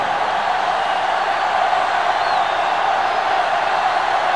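A stadium crowd in the NCAA Football 2005 video game, during a South Carolina vs. Clemson rivalry matchup, roars as a steady, dense wash of sellout-crowd noise with no breaks.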